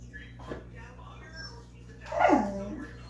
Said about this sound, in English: He wants to lick the bowl, and so he starts to bark.